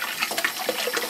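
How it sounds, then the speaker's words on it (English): Lukewarm water runs from a kitchen tap into a premium red wine kit, a short, close splashing gush. "And now I'm just adding kind of lukewarm water"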